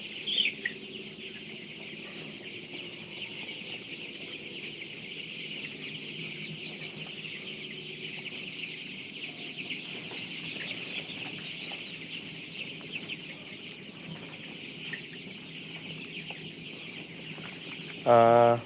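Chickens on a poultry farm clucking faintly and continuously against a low background hum, with a short louder noise at the very end.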